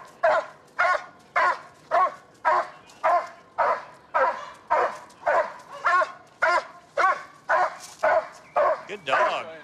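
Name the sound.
police K9 dog barking during arrest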